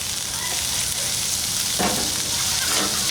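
Vegetables sizzle steadily in a pan as a little oil is added, with a continuous bright frying hiss and a brief spatula scrape or stir partway through; no talking.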